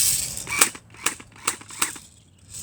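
An airsoft gun fires four sharp, evenly spaced shots close by, each a crisp snap with quiet gaps between, and no talking.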